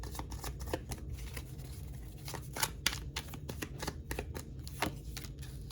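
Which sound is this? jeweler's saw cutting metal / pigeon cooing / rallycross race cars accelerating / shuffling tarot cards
shuffling tarot cards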